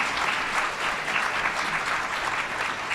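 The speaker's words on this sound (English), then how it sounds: "Can we all give these people a round of applause?" A keynote audience at a local research presentation applauds clinical trial participants, dense sustained clapping from a large room throughout.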